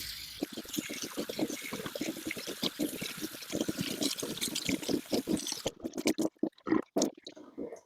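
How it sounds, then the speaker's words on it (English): Dyed yarn rinsed under running water, splashing and trickling steadily at close range with soft squelching handling, the flow cutting out in short bursts toward the end. "I'll keep rinsing and we'll see"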